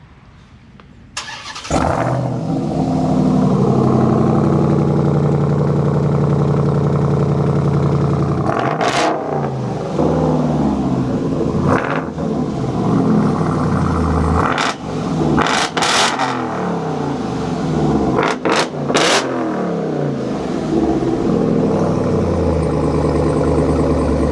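A Ram TRX engine with an AWE aftermarket exhaust cranks and starts, then rumbles loudly at idle through a deep exhaust, with several sharp revs blipping up and dropping back.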